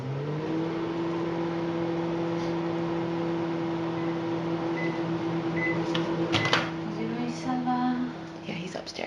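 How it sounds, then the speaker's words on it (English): A microwave oven runs while heating hard wax, giving a steady, even hum with a faint tonal whine. Near the end, a few small clicks and knocks break in. "And I'm going to put it in the microwave."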